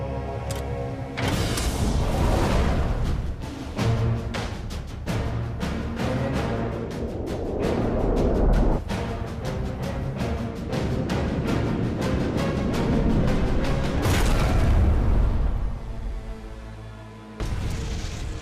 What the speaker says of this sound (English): Targeting the steamer, Hartigan launches his first torpedo. Torpedo fire.